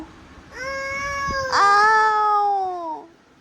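A voice imitates a cat with a single drawn-out, rising and falling meow, clear and close, lasting a couple of seconds.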